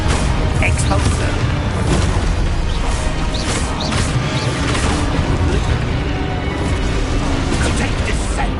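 A dense, continuous roar of booming blasts and crashing debris from an Expulso spell in a Harry Potter game, loud and sustained throughout, with spoken voices mixed in.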